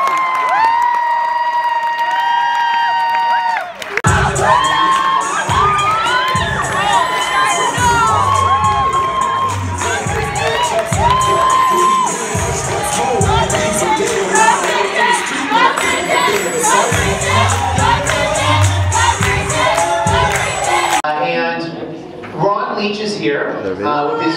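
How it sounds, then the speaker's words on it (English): A conference audience at a Talent INC Canada event cheers, whoops and applauds for the 2017 host, loud and dense after a brief quiet opening, with children's shouts mixed in and the roar continuing for about twenty seconds before tapering off. "let's give a huge round of applause for our 2017 host tonight"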